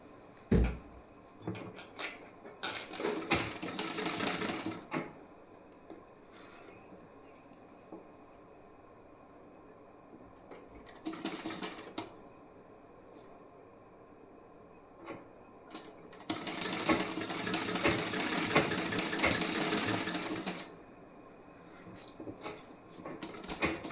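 A sewing machine runs a double line of stitching on the back panel and sleeve of a garment, in several separate bursts with the longest near the end and quiet pauses between. No one speaks.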